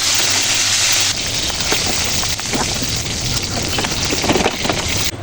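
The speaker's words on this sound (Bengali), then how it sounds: "এখন আমি মাছগুলো দিয়ে দিচ্ছি। মাছগুলো আমি প্রথমে ভেজে নেব।" Gochi fish sizzling in hot oil in a home kitchen pan, a loud, steady hiss and crackle that runs unbroken, with a denser burst of spattering near the start.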